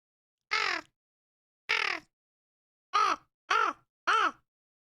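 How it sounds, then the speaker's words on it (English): A crow cawing in Dragon Age: Inquisition: five loud, harsh caws, two spaced apart and then three in quicker succession, each clear against silence. "Crow noise, is that you?"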